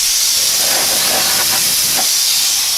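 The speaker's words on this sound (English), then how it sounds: "That compressor did a pretty good job." Compressed air from a compressor blasts dust off a butcher block workbench top, a loud continuous close hiss throughout with no talk.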